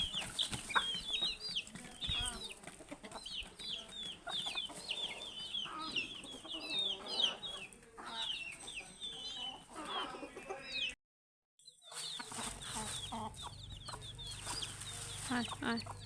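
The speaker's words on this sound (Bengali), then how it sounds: "অস্থিরতা করে এই মুরগিগুলা।" A flock of backyard chickens clucks excitedly while eating freshly given feed and cool water, a busy nearby chorus of overlapping clucks that briefly cuts out and resumes.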